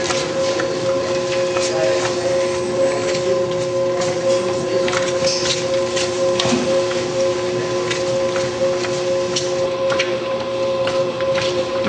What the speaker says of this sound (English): The machine continues to mix the raisins in with the dough